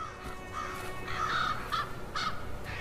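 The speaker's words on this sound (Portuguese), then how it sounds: "Os corvos encontram muitas carcaças durante o inverno" Ravens give several hoarse, croaking calls in succession, moderately distant over a soft background hum.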